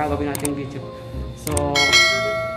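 A bell-like notification chime rings out over speech, one bright struck tone starting softly and returning louder near the end with a lingering shimmer.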